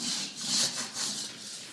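A hand scraper rasps high spots off a dried skim coat on a kitchen floor before vinyl flooring goes down, making several steady back-and-forth scraping strokes, close and fairly loud, with no talking.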